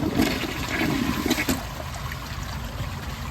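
A 2019 Glacier Bay dual flush toilet flushes nearby with a loud rushing swirl of water that drains away into a steadier trickle and refill hiss, with no talking.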